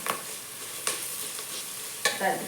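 Grated raw mango stirs and fries in a pan for mango chitranna, with a few scraping stirs and a steady soft sizzle, close and fairly quiet.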